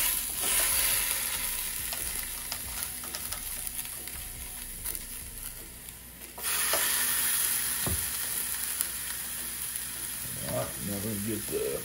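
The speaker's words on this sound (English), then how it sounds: "I'm gonna spread a little avocado oil on there. Let's get these pork chops on." Pork chops seared on a preheated Ninja Foodi grill brushed with avocado oil, crackling in a loud, dense, continuous sizzle close by, which briefly dips and then surges again, with a few clatters and a voice near the end.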